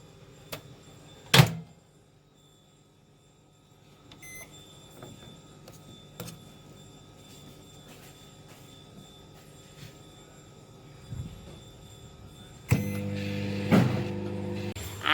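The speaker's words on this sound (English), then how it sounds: "now I'm gonna microwave it for" A microwave oven heats slices of cheesy veggie garlic bread with a faint, steady hum, scattered clicks and knocks, then a louder burst of beeping tones near the end.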